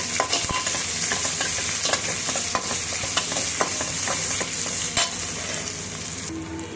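Chopped onion fries with coriander and cumin in a pan for ridge gourd kadayal, a loud, steady sizzle with frequent scraping and clicking from stirring throughout, no voices.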